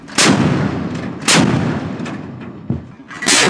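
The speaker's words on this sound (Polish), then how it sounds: "wykonaliśmy zadanie z uniwersalnej armaty AK-176M" AK-176M naval gun firing from the Polish navy ship ORP Kaszub, three loud, sharp blasts spaced about a second apart, each followed by a rolling echo, with a smaller report in between.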